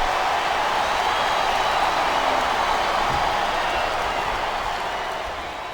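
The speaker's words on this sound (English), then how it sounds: "Sounds like this crowd's got something on their minds," Wrestling arena crowd at a WWE match murmuring and clapping, a broad steady roar of many people that fades slightly toward the end.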